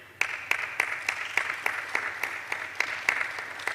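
An audience at an innovation fair applauds a person being introduced, with a small group giving a steady run of about a dozen evenly spaced, fairly close claps.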